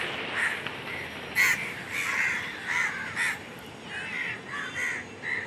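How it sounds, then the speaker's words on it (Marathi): Several crows caw repeatedly in short bursts from a moderate distance, calls overlapping in an uneven rhythm over steady outdoor noise, the crows scattering after firecrackers went off. "कसले कावळे पळाले बघा तिथं"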